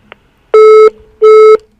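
A telephone line after the caller hangs up: two loud, steady busy-signal tones, each about a third of a second, separated by a short gap, preceded by a faint click.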